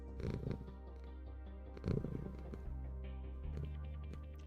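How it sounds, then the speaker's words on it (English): A domestic cat purring loudly right at the microphone, a continuous low rumbling drone with a couple of louder bursts, heard alone without talk. "he's purring really loud again"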